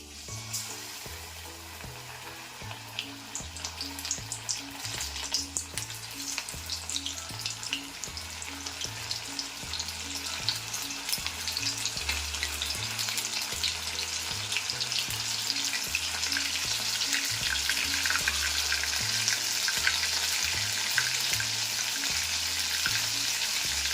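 Lotte (Bombay duck) fish frying in hot oil, a steady loud sizzle and crackle that builds gradually and continues alone throughout, with faint stirring clinks.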